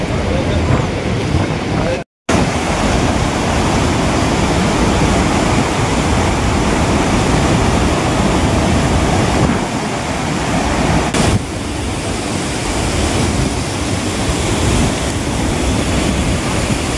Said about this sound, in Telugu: ఈ వాటర్ అనేది టర్బైన్స్లో నుండి వస్తున్న వాటర్ అన్నమాట